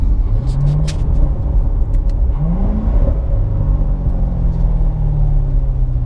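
A car drives along a road with a steady low engine rumble and road noise throughout, gear changes rising and falling in pitch, heard from inside the vehicle.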